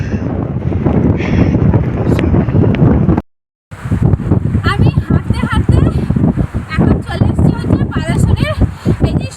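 Strong gusts at Dublagadi sea beach buffet the microphone in loud, rumbling bursts, with a brief dropout partway through and a voice speaking over the wind.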